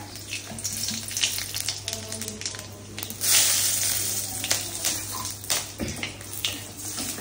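Black cumin and dried red chillies dropped into hot oil in a kadai, a sudden loud crackling sizzle that swells and then settles into steady spitting with scattered pops, close by and no talking.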